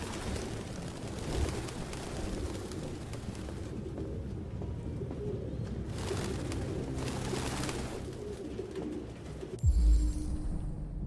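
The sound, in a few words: pigeons cooing in Detroit: Become Human video game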